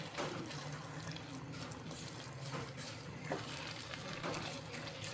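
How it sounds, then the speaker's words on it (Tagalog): Butter melting in a pan for Filipino-style spaghetti, a faint, steady sizzle and soft crackle with occasional small pops and a low background hum. "Okay, so hayaan lang natin na matunaw ang butter."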